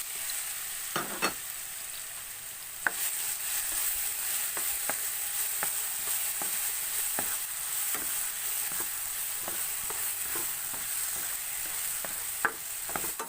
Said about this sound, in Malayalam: നമുക്ക് ഇതിനകത്തോട്ട് ഏത്തപ്പഴം ഇട്ടൊന്ന് വഴറ്റിയെടുക്കാം.